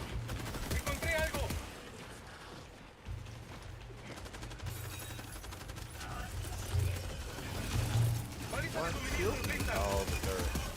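Rapid turret gunfire rattles through a video game, dense bursts of repeated shots over a low mechanical rumble, with people talking over the action.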